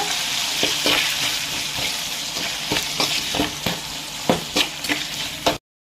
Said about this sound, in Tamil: ஸோ டொமேட்டோ ஆட் பண்ணக்கப்புறம் லைட்டாக மிக்ஸ் பண்ணிக்கோங்க